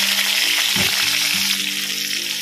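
Cumin seeds and chopped tomato crackle and sizzle in hot oil left over from frying potatoes, a steady close hiss with a brief louder burst as the tomato goes in, no voices.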